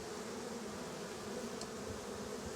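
Honeybees hum on hive frames during a walk-away split, a steady, dense buzz from many insects close by, with no voices over it.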